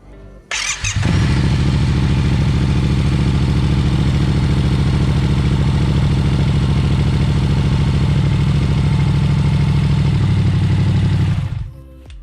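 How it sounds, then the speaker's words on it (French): A Yamaha MT-07 motorcycle engine, freshly refilled after an oil change, starts up and runs steadily at a loud, close idle for about ten seconds with a clattery mechanical rumble, then cuts off. "on va refaire tourner la moto"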